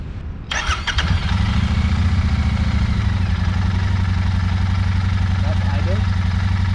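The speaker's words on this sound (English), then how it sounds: "Let's fire up the engine." A Royal Enfield Interceptor 650 motorcycle engine fires up after a short starter crank and settles into a steady, close, throbbing idle around 1500 RPM with an even twin-cylinder pulse.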